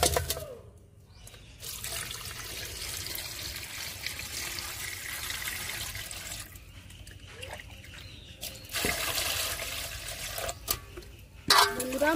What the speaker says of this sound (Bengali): এবার মাছগুলো আমি ধুয়ে নেব।